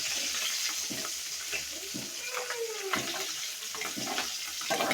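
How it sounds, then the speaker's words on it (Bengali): Puti (pool barb) river fish frying in a pan, a steady hiss of hot oil with occasional stirring and scraping taps from a utensil, close and moderately loud. "পুঁটি মাছ ভাজা"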